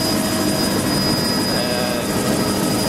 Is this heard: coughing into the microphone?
no